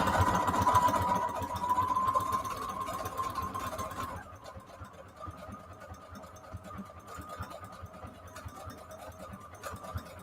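A sewing machine runs a straight stitch through fabric scraps for a junk journal cover, its steady motor whir loud and continuous for about four seconds before dropping to a quieter, uneven running hum.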